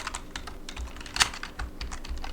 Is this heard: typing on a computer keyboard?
yes